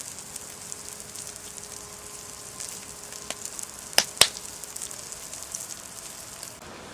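Bannock cooks over a campfire with a soft, steady sizzle and faint crackle. Two sharp pops or knocks stand out midway, with nobody speaking.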